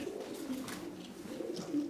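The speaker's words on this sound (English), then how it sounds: "Pigeons everywhere." Soft, low cooing from pigeons roosting in a derelict cinema, a continuous murmur of overlapping calls in a quiet, reverberant space.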